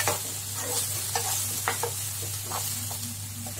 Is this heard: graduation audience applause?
no